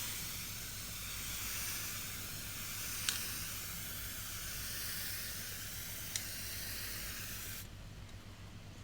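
A spray gun lays a fine mist coat of red and yellow leather dye onto a guitar body, giving a continuous close airy hiss that runs steadily for several seconds before cutting off near the end.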